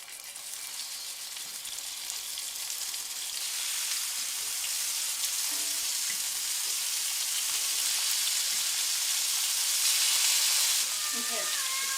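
Pork searing in a hot pan, a steady broad sizzle that swells after a few seconds and holds loud and close, with brief clinks near the end.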